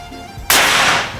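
A Daystate Extra air rifle with a plenum and angled manometer fires a pellet with one loud, close, sharp crack. A broad hiss trails off over the following second.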